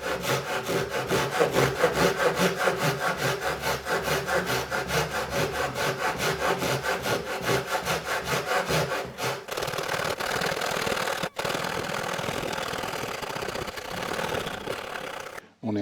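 A hand saw cuts wood in rapid, regular back-and-forth strokes, close and rasping, slowing into quieter scraping toward the end.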